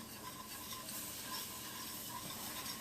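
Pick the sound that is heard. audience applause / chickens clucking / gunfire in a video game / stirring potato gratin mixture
stirring potato gratin mixture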